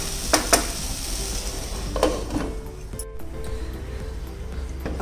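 Potatoes being stir-fried for upama sizzle in a pan under a steady frying hiss, with a few close clinks and scrapes of a spatula against the metal, and no talking.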